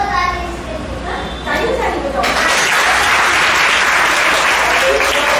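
Applause breaks out in a spiritual gathering in Delhi after a children's quiz on the five elements, starting with voices and swelling into loud, dense clapping that fills the rest of the clip.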